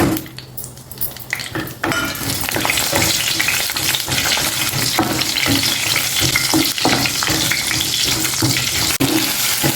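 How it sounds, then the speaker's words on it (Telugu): Green chillies fry with roasted lentils in an oiled pan, a loud continuous sizzle with frequent scraping and clinking of a spoon stirring against the metal. "ఇట్లా చక్కగా వేగిన తర్వాత మనం ఈ కట్ చేసి పెట్టుకున్నాం కదా ఈ పచ్చిమిర్చి ఇవి ఇందులో వేసేయండి"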